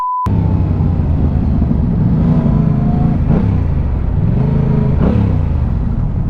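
A Yamaha R7 motorcycle engine roars loud and close throughout a wheelie, its pitch rising and falling as the throttle opens and closes in several swells.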